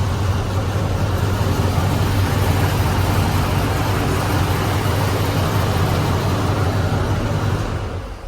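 Chevrolet squarebody truck with dual exhaust running steadily, a loud, even low-pitched engine drone with a throaty exhaust hum, close by, with no voices over it and a slight fade at the very end.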